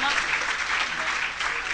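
Audience applause at a theatre ceremony, dense continuous clapping that fills the room, with a voice speaking over it.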